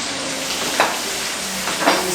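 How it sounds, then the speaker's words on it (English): Prawns for Kung Pao prawns sizzle loudly in a hot pan, a steady close frying hiss with two brief spattering flare-ups as they land in the oil. "now we add in the prawns"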